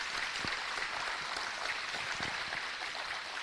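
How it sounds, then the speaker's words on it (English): An audience applauds panelists at a national security forum Q&A session, a steady wash of many hands clapping at moderate distance, fairly soft and continuous, with no voices over it. "let's give these guys a round of applause and thank them"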